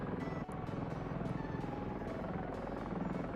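An attack helicopter hovering in a Godot 4 game gives a steady, close, throbbing rotor drone with rapid blade pulses and a turbine whine, heard alone without talk.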